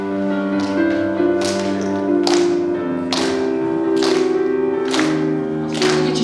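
Sharp, evenly spaced claps, about one every 0.8 seconds, ring out loudly over sustained organ-like hymn music as a church congregation claps along in time.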